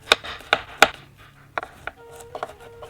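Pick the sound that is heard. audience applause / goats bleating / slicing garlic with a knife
slicing garlic with a knife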